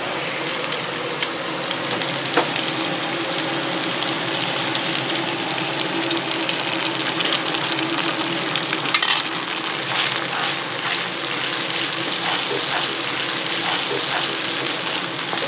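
Minced beef and chopped onion stir-fry in a pan, a steady loud sizzle with scraping stirs and spatters throughout, no talking.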